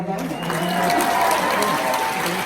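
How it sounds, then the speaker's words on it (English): Audience clapping during a recruitment presentation on connecting with strangers, a continuous crackle of many hands with a voice talking over it throughout. "You can clap for that"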